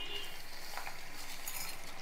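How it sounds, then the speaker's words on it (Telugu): Chana dal and mustard seeds fry in hot oil as a tempering, a soft, faint sizzle with light crackle running steadily throughout. "ఈ లోగా ఇది ఎగుతూ ఉంటాయండి దీంతో పాటు సనపప్పు కూడా వేసేస్తున్నాను సనపప్పుతో పాటు ఆవాలు కూడా"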